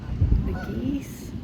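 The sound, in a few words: geese honking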